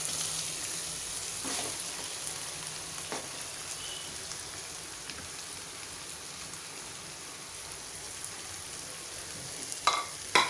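Potatoes frying in a hot tempering of turmeric and asafoetida for aloo paratha stuffing, a steady broad sizzle with a few faint stirring knocks and a louder clatter near the end; no talking.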